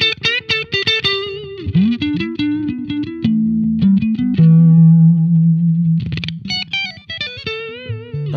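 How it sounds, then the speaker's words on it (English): Clean electric guitar notes and chords through a Yamaha THR10-C amp ring out with a repeating tape echo trailing behind, warm and bell-like, played alone with no talking. "And I've also got the tape echo engaged"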